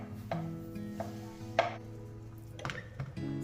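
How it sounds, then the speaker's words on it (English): Knife slicing mushrooms on a cutting board for a sourdough chicken pot pie, several soft separate chops over a faint background hum. "The mushrooms I just slice a little bigger because they do cook down."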